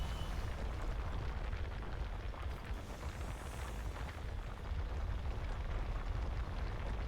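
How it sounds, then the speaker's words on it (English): A missile detonation in the Mass Effect video game, a loud rumbling blast that swells and keeps roaring as a dense, sustained explosion wash with no voice over it. "I hit him with a missile."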